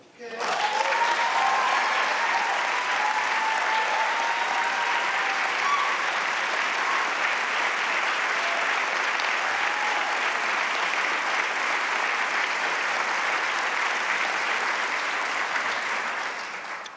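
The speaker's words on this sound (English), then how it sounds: "Thanks for the applause" Sustained audience applause fills a hall during a state governor's State of the State address, a dense, even wash of clapping that continues for well over fifteen seconds before tapering slightly at the end.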